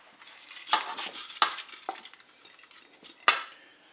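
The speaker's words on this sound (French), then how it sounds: "je vais mettre mon riz dans la cuve" Rice poured and stirred into the bowl of a Cookeo multicooker, giving a few sharp scraping clatters of grains and utensil against the metal pot amid softer rustling, close by with no talk.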